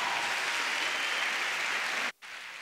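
Audience applause at a murga anniversary gala, a steady, loud wash of clapping from a large crowd that breaks off briefly near the end before resuming.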